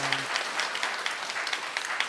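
Church congregation applauding to welcome a newly baptized member at a Christmas worship service, a steady dense patter of many hands clapping throughout, close and fairly loud.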